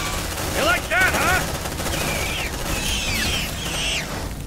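Gunfire in the video game Aliens: Dark Descent, rapid bursts of shots with mechanical clatter and sharp high electronic chirps, under occasional voices.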